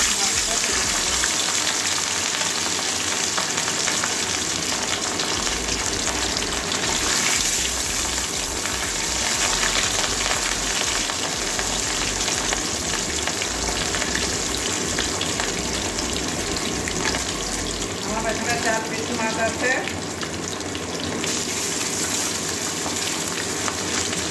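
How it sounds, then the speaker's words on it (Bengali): Katla fish pieces frying in hot mustard oil, a loud continuous sizzle and spatter close up that holds steady for the full length. "তেল গরম হয়ে গেছে এবারে মাছ কোটা ভেজে নেব"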